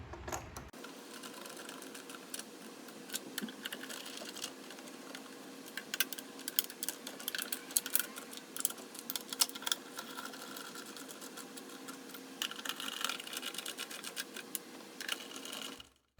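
Bolts being run down by hand into the intake manifold plenum of a 3.6L Pentastar V6, a steady close mechanical whir with dense rapid ticking and clicking that continues almost unbroken for the whole stretch, no talking.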